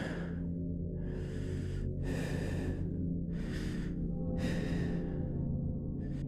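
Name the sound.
breathing against the microphone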